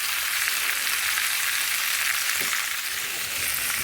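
Pork chops fry in a pan for a creamy spinach mushroom dish, giving a steady, even sizzle throughout with a brief stir or shift partway through and no talking.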